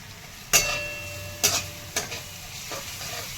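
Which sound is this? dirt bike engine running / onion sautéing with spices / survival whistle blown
onion sautéing with spices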